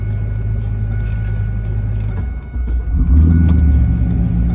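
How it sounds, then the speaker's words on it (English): A Pontiac Trans Am drives along with a loud, steady low engine rumble heard from inside the cabin, briefly dipping then swelling into a deeper, stronger drone as it accelerates. "I am driving the Trans Am"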